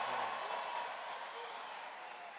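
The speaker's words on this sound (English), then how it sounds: "Give them a big hand." A large crowd applauds the Miracle on Ice team members at an event with President Trump, a steady, dense wash of clapping that holds throughout and fades only slightly.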